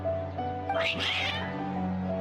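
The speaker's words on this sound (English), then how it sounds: "Your cats seem pretty worked up." Game cats in Genshin Impact let out a drawn-out, rising and falling meow, loud and close, over steady background music.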